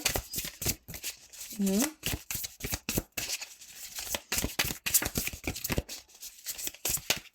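Tarot cards shuffled by hand in quick riffling bursts under near-constant French speech, with soft papery flicks running through the whole stretch.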